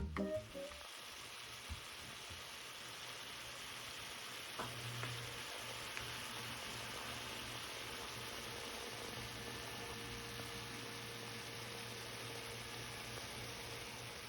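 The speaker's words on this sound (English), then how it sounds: "we're going to let it cook down for about 5 to 6 minutes" Chicken pot pie filling simmering and cooking down in a pot, a steady, soft bubbling sizzle that holds for about fourteen seconds after a few faint knocks at the start, with no talking.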